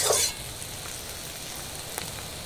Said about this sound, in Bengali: আলুটা কিছুক্ষণ ভেজে নেব